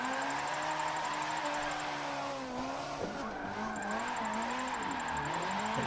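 Tires screech in a sustained skid during a clutch-kick drift in Forza 7, the engine droning and shifting pitch beneath a steady high squeal.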